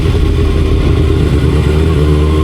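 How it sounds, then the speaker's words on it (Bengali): High-cc sport motorcycles such as a Kawasaki ZX6R, Yamaha R1 or Suzuki GSX-R on a dusty road, a loud, steady, close engine drone that stays unbroken throughout. "আজকে হায়ার সিসি বাইক নিয়ে বের হয়েছি"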